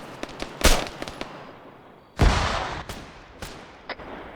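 Two loud blasts from a frag grenade in a video game, the first sharp and brief, the second heavier with a long rumbling decay, with scattered smaller pops and cracks around them.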